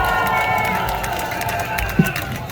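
Crowd at an outdoor Liberation Day rally in Gwanghwamun, a sustained wash of cheering and clapping from many people, with a single sharp thud near the end.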